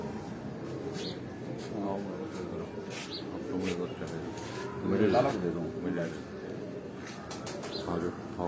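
Pigeons coo softly in the background while someone talks over them, with occasional wing flutters and faint chirps.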